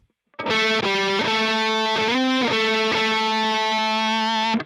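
A short, heavily distorted electric guitar lick from the solo of a song in standard tuning, sustained notes with bends, played loud and alone.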